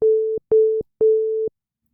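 A pure sine wave synth bass tone from the Caustic 3 app plays as three clean, steady notes of about half a second each, loud and isolated, followed by silence.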